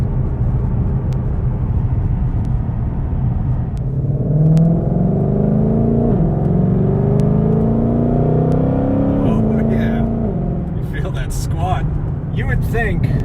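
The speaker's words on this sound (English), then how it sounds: "you do get quite a bit of road noise coming up from the Michelin Pilot" Steady tire roar from Michelin Pilot Sport 4S tires on a 2020 Shelby GT500 cruising on a dry road, a constant low drone inside the cabin with a voice talking over it throughout.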